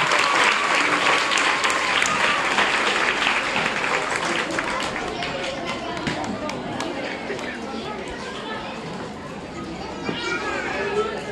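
Loud, sustained applause from a crowd, with children's excited voices and chatter mixed in, slowly fading a little before swelling again near the end.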